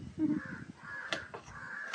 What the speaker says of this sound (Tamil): பக்கத்தில் காகம் நிறைய சத்தம் கேட்கும் பாருங்கள்